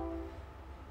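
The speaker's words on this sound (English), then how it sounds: "Yeah, there's the train." A train horn sounds from a distance, a sustained tonal blast over a low rumble of the passing train, fading within a second.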